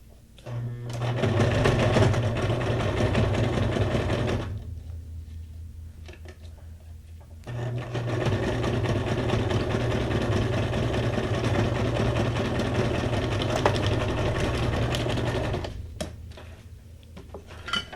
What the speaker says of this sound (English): I'm just attaching these with a zigzag stitch